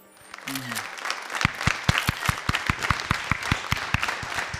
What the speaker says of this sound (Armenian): Ծափարենք Արշակին եւ Արուսիկին